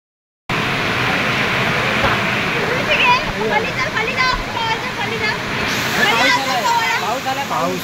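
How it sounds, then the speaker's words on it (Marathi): Steady rain falls outdoors in a dense, hissing wash that continues without a break, while a person talks over it. "पाऊस आला"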